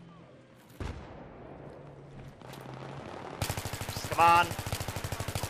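Rapid automatic gunfire aimed at an LAV in a Battlefield strike at Karkand match, a fast regular burst in the second half with a loud blast, following quieter game noise, with a brief spoken remark.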